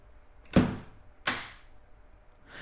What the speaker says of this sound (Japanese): 後ろで鉄の扉が閉まり、 ガチャンと鍵のかかる音がした。